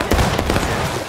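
A musket volley fires in the video game War of Rights, a dense loud blast of overlapping gunshots crackling together for about a second, close and harsh.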